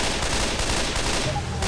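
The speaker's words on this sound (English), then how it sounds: "all the bullets flying down from there" Rapid, dense gunfire rattles through a Left 4 Dead 2 co-op finale, a continuous loud barrage of overlapping shots with no clear gaps.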